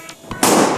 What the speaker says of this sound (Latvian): Man liekas, tie baloni vienmēr sprāgs